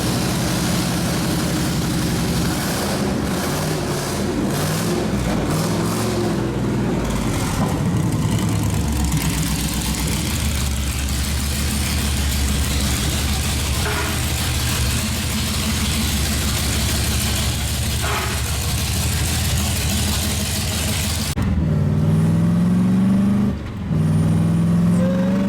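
A Mazda MX-5 Miata fitted with a supercharged Hellcat engine rumbles nearby at idle, low and steady, then surges to a louder, harder roar toward the end.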